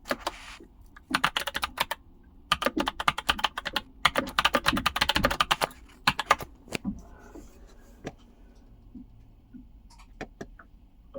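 Bursts of rapid typing on a computer keyboard, fast clattering runs broken by short pauses, then a few scattered single keystrokes near the end, with no voices.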